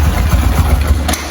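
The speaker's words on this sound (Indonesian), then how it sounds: "Oke, mesin nyala guys." A Honda motorcycle engine idling just after starting, a loud close chugging idle with uneven low pulses and a brief sharp noise near the end, no talk.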